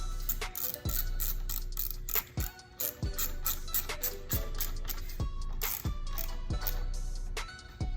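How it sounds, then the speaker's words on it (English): A ratchet fastens bolts back onto an Audi RS5 turbo intake, giving close, crisp clicking runs broken by regular stroke resets, with no talking. "And you just get your bolts and you put them back on."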